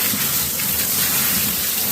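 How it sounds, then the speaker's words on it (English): Water splashes and pours over tumbled labradorite stones as they are rinsed after a vibratory tumbler run, a loud, continuous hissing gush close by. "Okay, back to rinsing stones."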